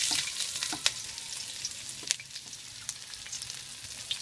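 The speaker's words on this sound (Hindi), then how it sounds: "अब हम कढ़ाई में प्याज डालेंगे।" Onions sizzle and fry in a hot kadhai wok, a soft, steady crackle with scattered sharp pops and spatters, fairly quiet and close, with no voices.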